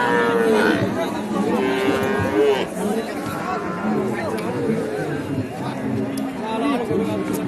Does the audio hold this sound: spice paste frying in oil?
no